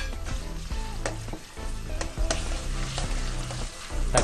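Onions fry in hot oil for a Ceylon fish curry, a close, dense sizzle with rapid crackling and repeated stirring scrapes, loud and steady throughout.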